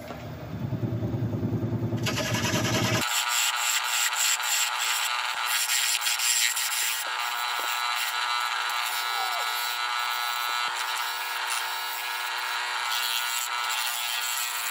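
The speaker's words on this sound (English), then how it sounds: "and then we'll start sanding." Sanding a figured chestnut wood bowl on a spinning woodturning lathe, giving a loud, steady abrasive whir with a constant motor hum that runs unbroken for the whole stretch.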